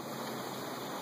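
Clean water streaming steadily out of a Katadyn Hiker Pro filter fitted with CamelBak quick disconnects, a close, continuous broadband splashing hiss with no talking.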